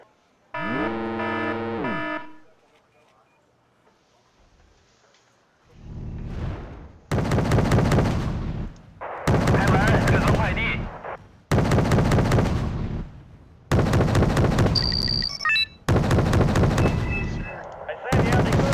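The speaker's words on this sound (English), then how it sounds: "Artillery adds a little class to what would otherwise be an ugly fight." Artillery fire in the Wargame: Red Dragon strategy game with the Ash and Shadows mod: after a brief tonal burst, a series of five loud, sustained booming barrages arrives in regular, closely spaced blasts, each a heavy distorted rumble.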